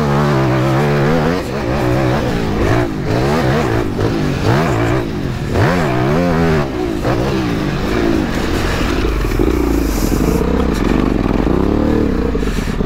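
An Aprilia 450 MXV twin-cylinder off-road motorcycle engine revs hard and close, rising and falling through repeated throttle bursts, then settling into a steadier, lower drone with some mechanical clatter.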